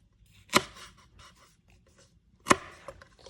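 Lemongrass cut for Thai Tom Yam chicken soup, two crisp, close chopping strokes about two seconds apart, with faint handling sounds between them.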